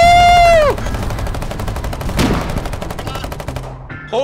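Artillery pieces firing in the Foxhole war game: a rapid, even string of shots runs through the whole clip at moderate loudness, with one sharper blast in the middle and a falling tone at the start.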